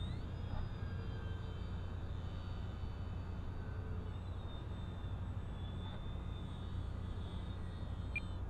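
An E-Flite P51D Mustang 1.2M electric RC plane on a 3s battery flies overhead, its motor a faint thin whine drifting steadily at a distance with no talk.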